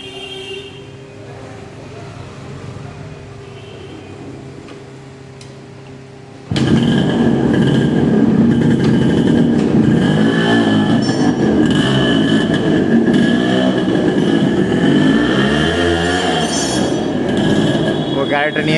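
A Yamaha RX135 motorcycle's two-stroke engine revs loud and close during a test ride, suddenly rising after a quieter idle and staying strong with varying pitch; a voice is heard over the engine.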